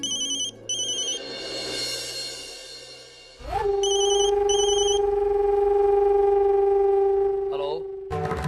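A telephone rings with a repeating electronic ringtone, loud and near, under background music and voices; partway through, a steady sustained tone takes over after what sounds like the call being picked up.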